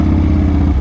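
Harley motorcycle engine rumbling steadily and loud close by, a constant low throb with no pauses while riding through twisty roads.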